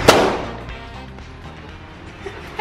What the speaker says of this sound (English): 'Bout to shoot some guns.